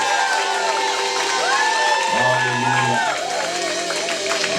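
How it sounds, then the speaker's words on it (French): A church congregation cheering and shouting praise to the Lord, a loud, dense crowd roar with whoops and raised voices sustained throughout, with singing or musical tones running beneath. "Est-ce que tu veux bien acclamer le Seigneur?"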